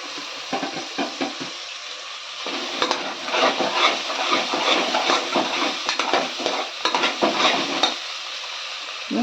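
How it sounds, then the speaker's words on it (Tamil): Vegetables for a vegetable biryani sauté in a pan with salt, mint and coriander, a loud continuous sizzle broken by repeated stirring scrapes and clatters, with no talking. "உப்பு போட்டு வதக்கிடுவோம்."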